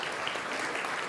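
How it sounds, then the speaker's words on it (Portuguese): A room full of people claps steadily, a dense, even burst of applause with no voices. "Uma salva de palmas para os nossos companheiros"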